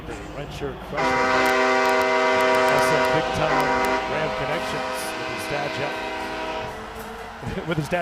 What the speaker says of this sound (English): Got the train horn this season at Canvas Stadium on 3rd down.